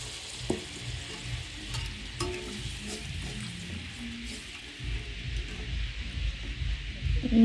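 Fried potatoes sizzle steadily in a pan for an egg curry, a continuous hiss broken by occasional stirring clicks and scrapes. No voices are heard.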